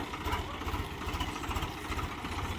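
A tractor carrying a load labours uphill in low gear on a rough track, its engine chugging steadily with a rhythmic throb at moderate distance, no voices.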